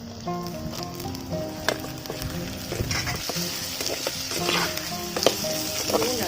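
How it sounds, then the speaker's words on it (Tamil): Onions and tomato frying in a clay pot as the base for a fish curry, a steady crackling sizzle with occasional clinks and stirring scrapes, close and moderately loud with no talking. "வெங்காயம் லைட்டா நல்லா கோல்டன் கலர்ல வச்சு தக்காளி போட்டுடலாம்."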